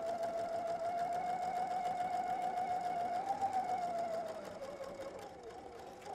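A sewing machine runs steadily while stitching a dart, a close, even whirring hum that holds for several seconds, then eases into a lower, slower drone near the end.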